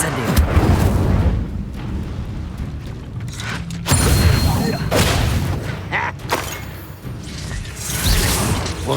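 Incendio fire spell blasts in Hogwarts Legacy on PS5, loud booming bursts with crackling, rumbling tails that repeat several times during a duel with other spell effects between them.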